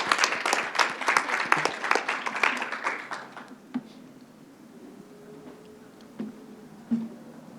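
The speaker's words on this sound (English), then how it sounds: "Let's have a round of applause for her." A conference audience applauds, a brisk patter of many hands for about four seconds that then fades to a few scattered claps and light room noise.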